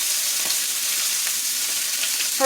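Steaks sizzle and crackle in a hot frying pan, cooking rare, with a loud, continuous hiss and a few faint pops and scrapes over it, and no talking.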